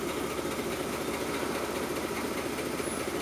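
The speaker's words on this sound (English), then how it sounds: "started it back up. It's idling lower" A worn engine with worn piston rings idles at a lower speed after being restarted, with a steady, continuous low rumble and vibration throughout and no talking.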